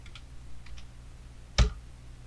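A few soft computer keyboard taps while entering a timecode in After Effects, followed by one sharper, louder press of the enter key; close and quiet, with no talking.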